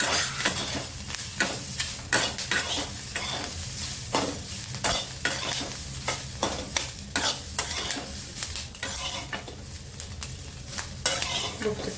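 Capsicum roasts in a pan with a little oil, a soft sizzle broken by repeated clattering scrapes and taps of a spatula stirring against the pan at an uneven pace.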